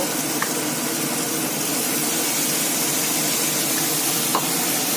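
Spice paste poured into hot oil for a Bengali duck egg and oil koi fish curry sets off a steady, dense sizzle that holds evenly throughout, with a couple of faint clicks over the frying hiss.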